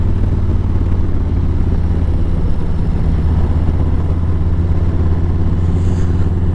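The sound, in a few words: Harley-Davidson CVO motorcycle riding on back roads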